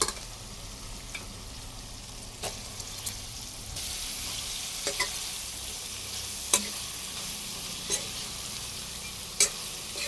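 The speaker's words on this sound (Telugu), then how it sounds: "ఇప్పుడు ఈ బొమ్మిడాయిలు వేయాలి." Dried bommidayilu fish stirred into a hot pan with turmeric, a steady sizzle broken by a few sharp scrapes and clicks of the spoon against the pan, with no talk.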